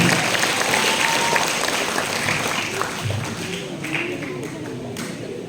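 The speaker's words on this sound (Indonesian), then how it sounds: "boleh tepuk tangan dulu" Audience applause at an entrepreneurship talk show for a national student organization, a steady dense clapping from a crowd that thins slightly toward the end, with voices mixed in.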